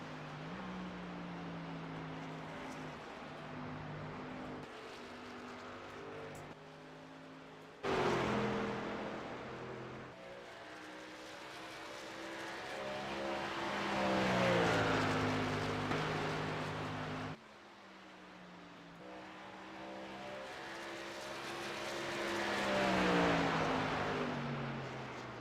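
Race trucks in the Orr Lawncare Truck Series qualifying at WWTRaceway: engines drone and rev as they circle the track, swelling closer and fading, with gear shifts and pitch sweeps as trucks pass, moderately distant and without talk.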